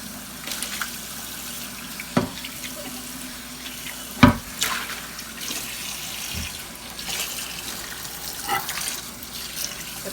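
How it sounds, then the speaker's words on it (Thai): Hot water runs steadily from a tap into a sink while an electric Nutrigrill BBQ grill is cleaned, with a few clinks and knocks over the continuous rushing flow. "ใช้น้ำร้อนเข้าไว้"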